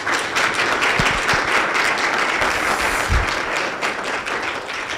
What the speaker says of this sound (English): So a round of applause to the ambassador.